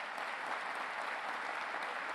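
Steady applause from the audience at a city's State of the City address in Buffalo, a dense, even wash of clapping held at moderate distance for the whole stretch, with no talking over it.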